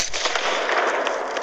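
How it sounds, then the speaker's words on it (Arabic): A grenade blast from the Android multiplayer shooter Infinity Strike, a loud broadband burst with crackling debris that fills the whole short moment, with no talk over it. "قنبلة، المشاهدون لقد أرسل علي قنبلة."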